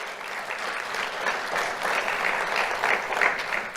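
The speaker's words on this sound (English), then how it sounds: "Let's have a round of applause for Norm," An audience at an awards ceremony gives a warm, continuous round of applause for volunteers, a steady mass of clapping at moderate distance with no voices over it.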